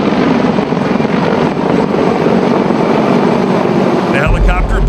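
A CH-53K King Stallion heavy-lift helicopter flies nearby with a loud, steady rotor and turbine roar throughout, a voice talking under the noise.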